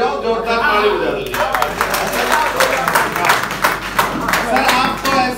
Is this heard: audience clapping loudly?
yes